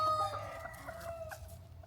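Chickens cluck and call faintly in a quiet outdoor spot, several short tonal clucks fading over about two seconds with no talking.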